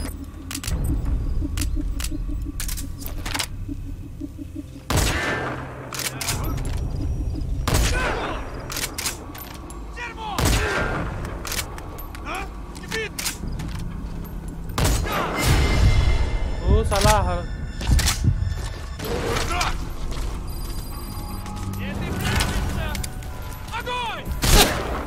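Shotgun blasts and other gunfire in a video game, sharp loud reports scattered irregularly across the stretch, with clicks and thuds between them and voices talking over the action.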